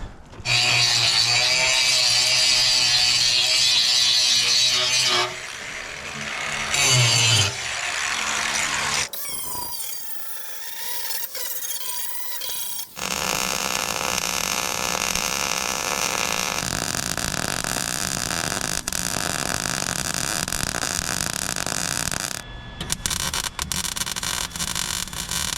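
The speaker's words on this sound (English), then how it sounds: "let's grind that up quick." A power grinder works the metal of a Boss snow plow with long, loud, harsh stretches of abrasive grinding, broken by a brief pause and changes in pitch as the disc bites and shifts.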